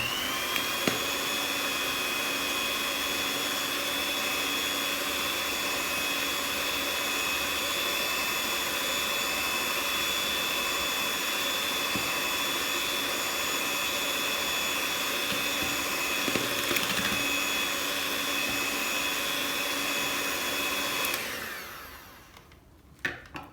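An electric hand mixer whirs steadily through cake batter with oil just added for a traditional cake, a continuous close motor hum lasting about twenty seconds before cutting off abruptly near the end.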